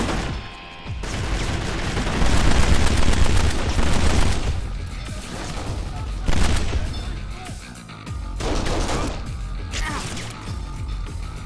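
Machine gun fire and crashing destruction in the video game Kane and Lynch during a Yakuza ambush, loud bursts with smashing debris in several waves, with faint voices in places.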